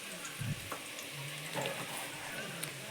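Ingredients frying in hot oil for a Telangana-style paper poha tempering, with a soft continuous sizzle and a few stirring scrapes close by, fairly quiet, with faint talk in the background.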